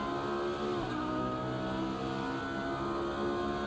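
A Lamborghini Super Trofeo EVO 2 race car at Road Atlanta gives off a loud, steady in-car engine howl, its pitch dipping briefly under braking and then rising again, with no voices.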